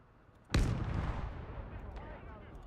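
Artillery fire in the WWII game Gates of Hell: Ostfront, Finland campaign: one heavy, close blast followed by a long rumbling decay, with no talk over it.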